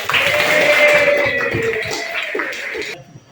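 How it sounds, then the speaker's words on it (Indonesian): A small group claps hands in a classroom setting, a short burst of irregular clapping with some voices mixed in, fading out after about three seconds. "Tepuk tangan."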